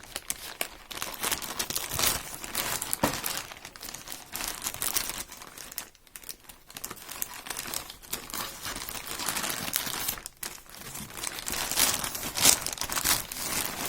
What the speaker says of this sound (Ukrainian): І давайте його розпакуємо і подивимось, що там всередині